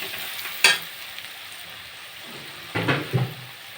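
Turmeric and salt frying in a pan for a fish curry with jackfruit seeds and pumpkin shoots, with a soft steady sizzle broken by a few sharp stirring scrapes, close and without talk.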